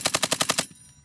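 A .50 caliber machine gun mounted on a Humvee fires a rapid burst of about seven loud, evenly spaced shots up close, followed by a brief fading echo.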